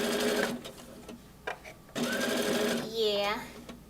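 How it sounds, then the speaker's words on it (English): A sewing machine runs a straight stitch in short bursts, its fast mechanical whir starting and stopping, close and clear, while a person talks over it. "Straight stitch across all that"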